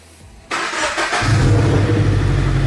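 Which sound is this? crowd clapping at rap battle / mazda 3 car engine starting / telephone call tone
mazda 3 car engine starting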